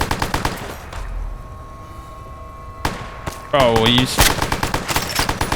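Rapid gunfire from a weapon in Fallout: New Vegas, with a burst of quick repeated shots at the start and a dense stream of shots near the end, separated by a quieter gap; someone speaks briefly over it.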